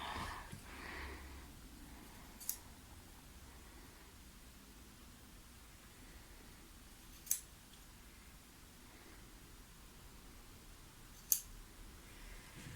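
Scissors snip wool at a tapestry manufacture in Aubusson, three brief sharp cuts spaced several seconds apart against a faint hiss of room noise.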